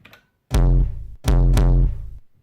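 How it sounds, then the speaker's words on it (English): Two loud, booming hits of a big, heavily compressed kick drum from a live electronic set, each with a long sustained low tail and bright attack, spaced about a second apart with no voices. "Big fat ass kick drum"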